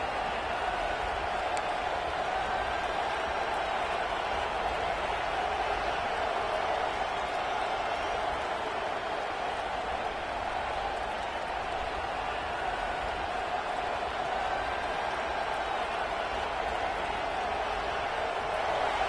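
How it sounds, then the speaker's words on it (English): A big stadium crowd at a Florida versus Oklahoma football game roars in a constant, dense wash of cheering and chatter that stays loud and unbroken throughout. "This crowd bringing the energy and noise early."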